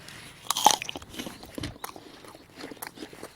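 A crisp crunchy bite into a firm, unripe jujube fruit, followed by close, wet chewing and crunching sounds with no talking.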